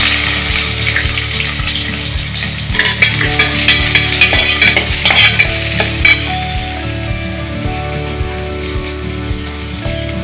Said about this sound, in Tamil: பெரிய வெங்காயம் நறுக்கி வச்சிருக்கிறேன், 2 வெங்காயம்